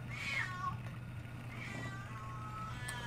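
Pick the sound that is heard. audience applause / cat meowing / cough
cat meowing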